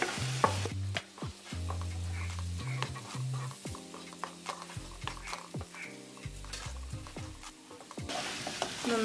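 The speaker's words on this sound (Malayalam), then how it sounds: "നന്നായിട്ട് വേവുന്ന വരെ നമുക്കിതൊന്ന് വഴറ്റിക്കൊണ്ടിരിക്കാം." Tomatoes with green chilli and garlic sautéing in a pan, repeated scraping strokes of a spatula over a quiet sizzle, close and rhythmic with no speech.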